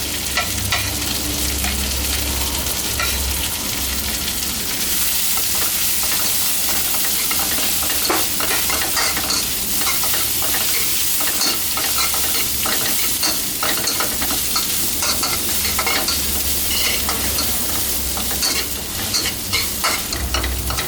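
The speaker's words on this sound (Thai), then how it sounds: "เพราะขิงก็สุกยากนิดนึง ต้องผัดขิงก่อนนะฮะ" Ginger stir-fried in a hot pan for a fish and celery stir-fry gives a loud, continuous sizzle. Scraping stirs run through it the whole time, with no voices.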